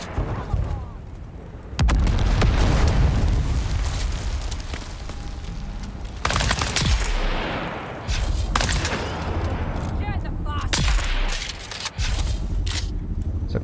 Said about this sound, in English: couple of shots should do it.